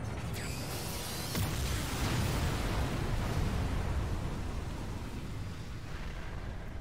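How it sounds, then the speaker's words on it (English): Artillery-style coastal protection guns firing in the video game NieR Automata, a dense, loud rumbling barrage of booms with sharp blasts early on, continuous heavy low roar throughout with no talking. "these are more just like artillery cannons"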